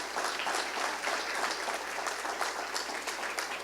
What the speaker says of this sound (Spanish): Yo creo que mereces otro aplauso.